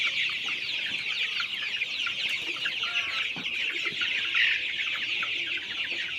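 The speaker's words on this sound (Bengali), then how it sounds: "কারণ এটা সোনালী মুরগির জাত" Sonali breed chickens cluck and chatter in a close flock in their enlarged pen, a continuous busy layer of overlapping bird calls with a few louder squawks and no voices.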